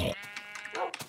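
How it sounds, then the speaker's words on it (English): Sheep bleating in Minecraft: several short, close bleats in quick succession over about a second, loud and clear with no talking. "Stupid sheep looking at you like that."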